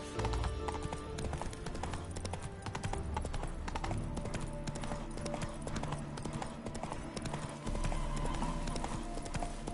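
Hooves of Roach, a horse in The Witcher 3 video game, clip-clop in a fast steady gallop beneath layered game music, with brief bits of speech at times.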